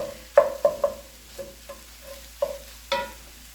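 Chopped leftover rotisserie chicken scraped and stirred in a pan for chicken fried rice, a handful of close, distinct utensil scrapes and taps spaced across a quiet background with faint frying beneath.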